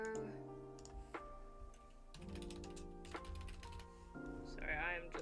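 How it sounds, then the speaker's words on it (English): Rapid keyboard typing clatters in quick, irregular bursts of clicks, sitting fairly quietly beneath louder tonal background sound that may include voices or music. "I'm just like speed typing everything."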